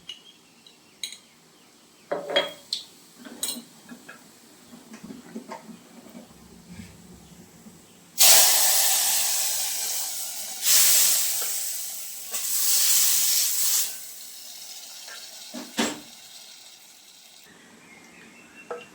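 Asafoetida tempering spices sizzling in hot oil while cooking siru keerai greens, heard as bursts of loud hissing sizzle with small clinks of utensils between them.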